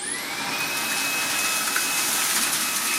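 Makita 40V CL001G cordless stick vacuum fitted with a cyclone attachment, running steadily: a loud, close, even whooshing whine with a high motor tone, no voices.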